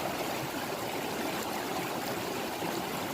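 Water flows steadily in a creek on the East Fork of the San Gabriel River, a close, continuous babble and trickle with no other sounds.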